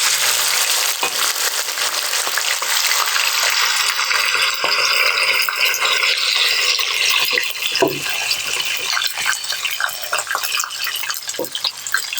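Steady, loud sizzling of pressure-cooked beef frying in hot fat for karahi, with occasional stirring scrapes, continuous throughout with no talking.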